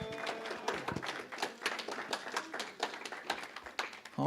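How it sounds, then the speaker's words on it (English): A small audience at a live acoustic music showcase claps for a performer, a close, scattered round of hand claps with uneven individual slaps, lasting several seconds before tapering. "let's give her another round of applause"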